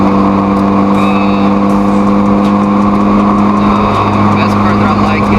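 A Honda Integra engine runs steadily and loudly at a high idle or held rev, with a constant droning hum and faint voices and ambient noise underneath.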